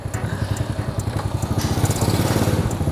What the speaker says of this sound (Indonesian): knalpot suaranya juga halus